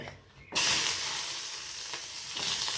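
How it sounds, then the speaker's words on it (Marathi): Ginger, garlic and cashews hit hot oil in a thin wok over a low gas flame, bursting into a sudden bright sizzle that keeps hissing steadily close by. "हे अद्रक लसण आणि काजू हे सगळं मला ह्याच्यात असं मस्त तेलामध्ये इथं कढईत भाजून घ्यायचं आहे"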